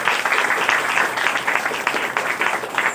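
A congregation claps together at a Saturday healing crusade church service, producing a continuous, dense patter of many hands at steady volume throughout, with no speech over it.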